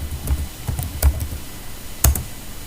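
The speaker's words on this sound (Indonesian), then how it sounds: "di sini juga kita ketikkan perintah ipconfig" Keys clack on a computer keyboard as a command is typed at a command prompt, a few separate, close presses spread unevenly over the moment, with one sharper double tap near the end and no voice.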